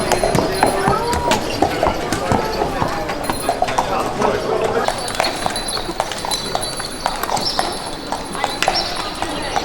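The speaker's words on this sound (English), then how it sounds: "Oh wow, is that a horse?" A horse's hooves clip-clop on a street in Mdina, Malta, a steady close rhythm of sharp hoof strikes with an occasional whinny and a person talking over it.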